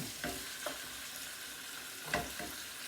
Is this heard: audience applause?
no